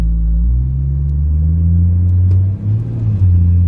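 A 600 HP turbocharged Ford Falcon on Mickey Thompson ET Street tires, its engine holding a loud, steady low rumble that rises slightly in pitch, with a brief dip near the end and no voices.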